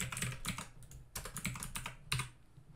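Typing on a computer keyboard, with rapid clusters of clicky keystrokes arriving in three or four bursts separated by short pauses, close and clear with no talking.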